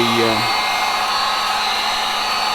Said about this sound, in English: we're going to be using a heat gun to make sure the wrap on the back contours to